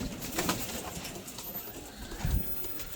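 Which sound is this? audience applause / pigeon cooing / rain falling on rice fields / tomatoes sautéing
pigeon cooing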